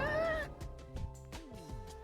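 A cartoonish cat meows from the video game Hundred Line: Last Defense Academy, one clear rising-falling call up front followed by softer game music and effects underneath.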